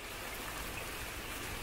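Rain falling outdoors on a cold, cloudy day in a children's story, a faint, even hiss of drops that runs unbroken through the short clip.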